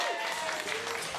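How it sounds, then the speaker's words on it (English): Wedding guests at a reception clap for the best man, a short burst of dense, close applause with a faint voice and some crowd murmur underneath. "Please give a round of applause for the other best man"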